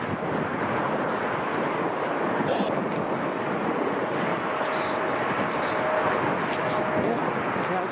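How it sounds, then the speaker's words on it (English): A British Airways Boeing 747 jet at Chicago O'Hare gives a steady, loud, broad roar that holds for several seconds, mixed with wind buffeting on the microphone. "British Airways 747."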